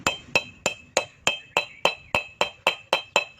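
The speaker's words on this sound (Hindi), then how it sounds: "सबसे पहले हम इसमें बैरिंग फिट करेंगे" Steady metallic hammer taps while a bearing is driven into a Suzuki Ravi motorcycle gearbox, about eleven sharp, ringing clinks evenly spaced and close, with nothing else heard.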